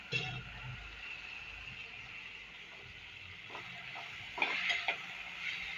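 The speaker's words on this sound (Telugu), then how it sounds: "ఇప్పుడు ఉడకబెట్టుకున్న గోరుచిక్కుడుకాయలు వేస్తున్నాను." Boiled cluster beans tipped into hot tempering in a pan, a soft steady sizzle with a few stirring clinks of a spoon against the pan, fairly quiet, no voices.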